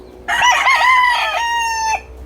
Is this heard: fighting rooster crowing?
yes